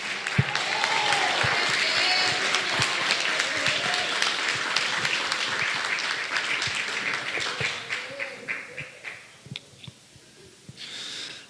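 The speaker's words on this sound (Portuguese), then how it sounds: "Aplaude mais forte, dá glória a Deus, vai." A church congregation applauds during a service, a strong burst of many hands clapping with voices and cheers mixed in, gradually thinning into scattered single claps before a final brief swell.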